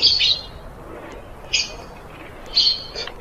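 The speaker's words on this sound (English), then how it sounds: "they just keep going in circles, the birds." Birds chirping in the Roblox game Isle, three short bright bursts of calls spaced about a second apart over a quiet background, fairly close and with no talk.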